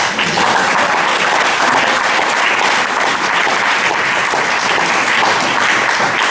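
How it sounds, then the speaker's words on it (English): Sustained applause from a fundraising breakfast audience, a dense, steady wash of many hands clapping at close range with no break, loud throughout. "That's an applause line, by the way."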